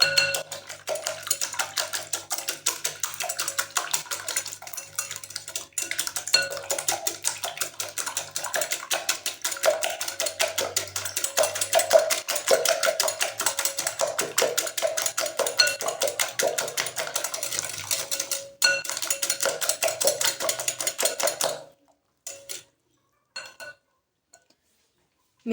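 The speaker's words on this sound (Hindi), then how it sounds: "तमाम चीज़ों को अच्छी तरह से मिक्स कर लेंगे।" Omelette ingredients are mixed in a bowl with salt, crushed red chili and crushed coriander powder. A spoon clinks and scrapes in a fast, steady rhythm for about twenty seconds, close and alone, then it stops.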